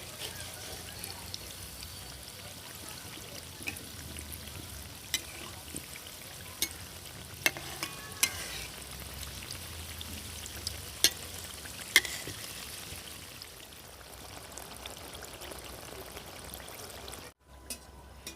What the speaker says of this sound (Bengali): এবার এগুলোকে উল্টে পাল্টে একটু লাল লাল করে ভেজে নেব